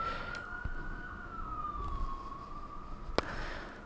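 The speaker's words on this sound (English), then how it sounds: "Siren break." A distant wailing siren holds a steady rising and falling tone over low background noise, with a couple of sharp clicks.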